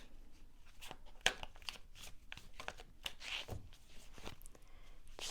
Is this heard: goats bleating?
no